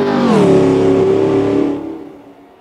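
A Ferrari Enzo race car engine screams loudly in a high rising rev as it races past, then fades away quickly into quiet.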